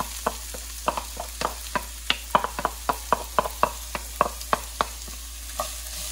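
Chopped onion fries in a pan with fennel seeds, ginger and garlic, with a low sizzle under a steady run of sharp spatula taps and scrapes.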